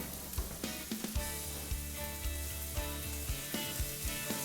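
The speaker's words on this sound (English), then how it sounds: "let's throw the scallops in there" Scallops sizzle loudly in a hot pan, a dense, steady frying hiss close up, broken by regular small taps and scrapes of a utensil.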